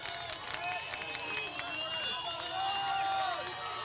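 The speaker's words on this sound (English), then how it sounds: "Here's the home crowd getting loud on" A home crowd at a high school football game between Battle Creek and Cedar Catholic cheers and roars in the distance, with scattered whistles and shouts rising toward the end under a commentator's voice.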